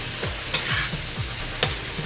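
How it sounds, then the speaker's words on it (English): Ground meat searing in a hot pan for pastel de choclo, a steady broadband sizzle with a few sharp scrape or stir clicks, close and fairly loud, with no voices. "Make sure the pan's hot. You don't want to play around with it too much, just let it sear."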